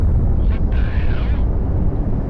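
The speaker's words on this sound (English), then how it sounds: "That is quite the explosion and quite a cool effect too." A large explosion in the Project Wingman flight combat game: a dull, sustained rumbling blast with a brief hissing burst, heard over continuous low engine roar.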